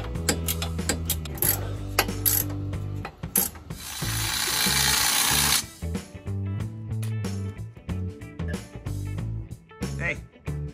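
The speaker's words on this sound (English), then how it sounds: "Traction bar is pretty much on this side, and I'm just starting to tighten up the bolts." A ratchet clicks in quick bursts while bolts on a traction bar are tightened on a 1967 Camaro, with a louder rushing passage midway, short pauses between runs, and people talking.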